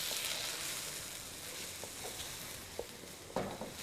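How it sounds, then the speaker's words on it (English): Onions frying in oil in a pan for a linguine sausage sauce, giving a steady soft sizzle with a few faint clicks of stirring scattered through, close by and without any talking. "you're going to add a bit of oil. And you want to cook these onions until they're fragrant"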